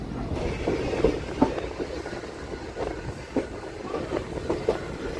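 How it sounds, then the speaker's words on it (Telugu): A DEMU train rolling between Kurnool City and Guntakal while crossing onto other tracks, with a steady rumble and irregular clanks and knocks from the wheels passing over points. "పత్తాలు చేంజ్ అవుతుంది మా ట్రైను"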